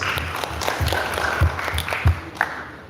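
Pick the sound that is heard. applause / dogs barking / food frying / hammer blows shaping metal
applause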